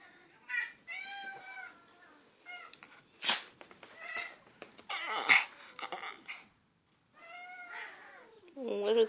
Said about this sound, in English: What are those kitties doing over there? Making a lot of noise.